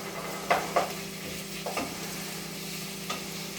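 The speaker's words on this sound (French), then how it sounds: "Et de temps en temps, continuer de remuer les oignons, qui, je ne sais pas si vous voyez, sont de plus en plus caramélisés." Caramelising onions fry quietly in a pan for a homemade bolognese, a low steady sizzle under a few distinct scrapes and knocks from a spoon stirring them.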